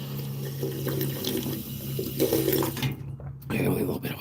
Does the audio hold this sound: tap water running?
yes